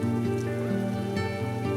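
A brief stretch of heavy, continuous rainfall under sustained musical tones, with no one speaking.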